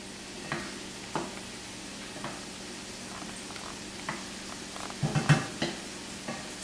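Croutons in butter sizzle softly in a pan, with a low steady hiss under periodic scraping and knocking as they are stirred, and a cluster of busier clatter near the end.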